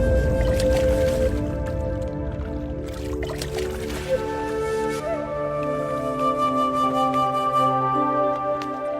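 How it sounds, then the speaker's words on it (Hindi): Clay pots are lowered into water, giving soft watery squishes, gurgles and drips over a sustained, droning background with several tonal layers; no one talks. "अब आप इन दोनों घड़ों को पानी में डाल दीजिए।"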